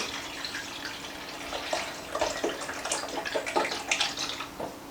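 Chicken broth pours into a soup pot for split pea soup with ham, heard as a soft running liquid wash with light splashes and gurgles that grow busier after the first couple of seconds, close by, with no talk.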